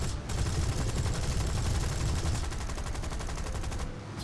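Continuous rapid machine-gun fire from a D.521 fighter aircraft in War Thunder, a loud, dense rattling burst sustained for nearly four seconds before cutting off.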